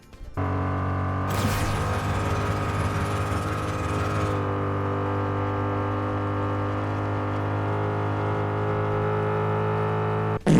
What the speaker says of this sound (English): It's an electrically synthesized engine sound